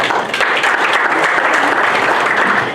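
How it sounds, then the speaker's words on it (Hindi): Sustained clapping from a big crowd at an association election meeting, loud and even throughout, with no voices rising above it. "जोरदार तालियां"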